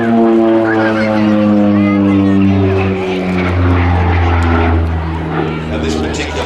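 North American Rockwell OV-10 Bronco twin-turboprop light attack aircraft at an air show, its loud steady propeller drone with layered harmonic tones running throughout, a commentator talking over it.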